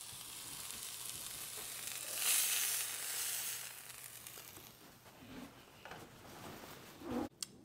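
A steak cooked from straight out of the refrigerator sizzles on a George Foreman grill, a steady fizzing hiss running throughout with a few louder crackles and pops near the end, close and with no talk.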